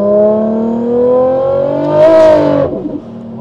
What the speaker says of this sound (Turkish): Seni öne doğru fırlatıyor araba.